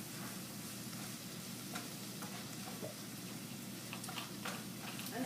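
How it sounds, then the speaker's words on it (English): Ingredients being stirred in a frying pan while making spanakopita, a steady low sizzle running throughout with soft scraping and clicking strokes of the spoon, a few sharper ones near the end. "All right, so I'm going to stir that in."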